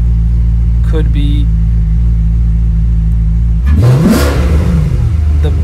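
A Maserati GranSport engine idles with a loud, steady low rumble, then revs sharply and climbs for a moment before settling back, heard up close with brief talk early on.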